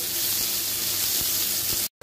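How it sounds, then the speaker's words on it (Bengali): Chopped onions frying hard in oil with cardamom and bay leaf for a spicy beef liver curry, a loud continuous sizzle close by that cuts off abruptly near the end. "পেঁয়াজগুলোকে এখন আমি খুব ভালো করে ফ্রাই করে নেব।"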